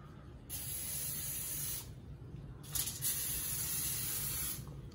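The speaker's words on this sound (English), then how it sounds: "you want to spray your pan with vegetable oil" Two bursts of vegetable oil aerosol spray hiss close by onto a pan, a long spray followed by a shorter one after a brief pause, with no talking.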